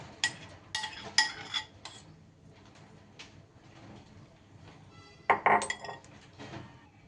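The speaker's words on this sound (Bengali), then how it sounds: "এইবার টিফিন বক্স আমি এখানে নিয়ে নিলাম, নিয়ে সব কিছু টিফিন বক্সের মধ্যে এইভাবে" Cooked food is spooned into a tiffin box, producing a few sharp metallic clinks and scrapes in two clusters with quieter handling in between, close by and without speech.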